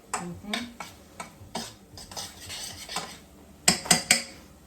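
Roux for a beef pot pie stirred constantly in a pot until thick and bubbly: close scraping strokes of a utensil against the pot, irregular clinks, then three sharp louder knocks near the end, with no talk.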